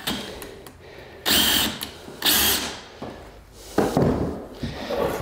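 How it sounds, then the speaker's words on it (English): Power drill driving a screw into a subfloor board during a crack repair, three short close whirring bursts separated by pauses, with faint handling clatter around them and no talk. "I'm gonna put a screw in"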